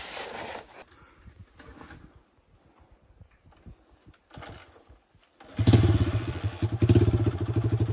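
A dirt motorcycle on a rough trail, quiet idling and insect chirps at first, then the engine revs hard and loud near the end in surging bursts.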